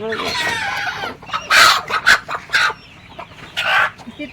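A free-ranging desi hen in a pomegranate orchard gives several short, bright clucks in bursts, with a drawn-out squawk at the start, fairly close with soft background noise.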